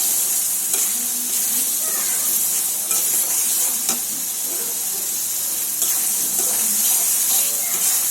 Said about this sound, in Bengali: মশলাটা ভাজা ভাজা করে নিচ্ছি